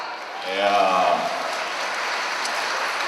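Audience applause at a Telugu association convention after a dance school's performance: steady, broad clapping from a crowd, with a voice briefly heard over it near the start.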